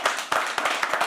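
An audience claps at a live poetry open mic at The Habitat, a short burst of brisk, close, uneven hand claps with no voices over it.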